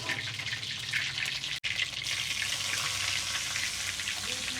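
Whole cumin seeds temper in hot oil for pav bhaji, giving a steady close crackling sizzle with fine popping throughout, broken only by a brief dropout.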